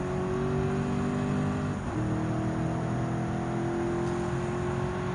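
Dodge Challenger R/T Hemi V8 from Gran Turismo 7 droning steadily at high revs, with a brief dip around a gear change before the engine note climbs again; loud and continuous, no talk.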